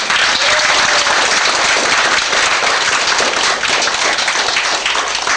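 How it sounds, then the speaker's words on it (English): Audience at a science fiction convention gives a loud, sustained round of applause, dense and continuous from start to finish with no talking over it. "Just another round of applause."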